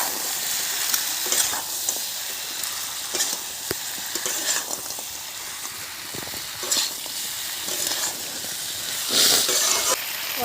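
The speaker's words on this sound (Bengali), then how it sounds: "এবারে আমি দিয়ে দিচ্ছি কেটে রাখা কাঁকড়া।" Cut crab pieces frying in hot oil give a loud, steady sizzle with bursts of spattering and occasional stirring scrapes, close up, with no voices.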